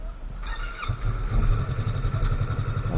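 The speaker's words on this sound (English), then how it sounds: "this is the second time I'm riding the Yamaha R3" Yamaha R3 parallel twin motorcycle engine while riding, a steady loud droning hum with a rising buzzy tone partway through, continuous throughout with wind noise.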